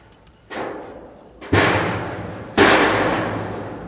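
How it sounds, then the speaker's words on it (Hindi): Three heavy metallic bangs, like feet stomping on the iron stairs of a forest watch tower in Miani Forest near Hyderabad, Sindh, each ringing out and fading before the next, growing louder. "आवाज़ें तो धड़ाम धुड़ूम की ऐसी आ रही है, इन लोहे की सीढ़ियों से निकल रहे हैं पटाखे"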